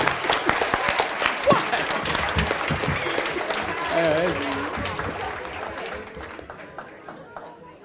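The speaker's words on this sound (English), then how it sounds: "give him a round of applause, guys" Audience at a school quiz competition clapping for a correct answer, a lively burst of scattered claps mixed with chatter and voices that thins out toward the end.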